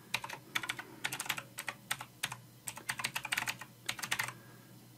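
Steady, rapid typing on a computer keyboard, with crisp key clicks coming in quick runs and short pauses, close up and moderately soft, with no voice over it.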